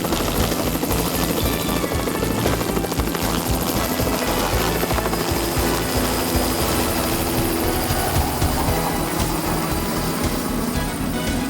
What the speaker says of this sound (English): helicopter is the best way to do it.